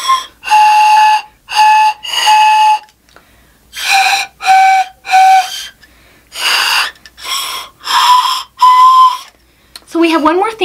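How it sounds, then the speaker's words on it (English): A homemade pan flute made of drinking straws, bottoms plugged with a thumb, blown in short airy whistling toots of several different pitches, grouped in breathy bursts with pauses between, ending with a brief rough breath. "if you want to make a little louder of a noise, you plug up the bottom of that straw with your thumb."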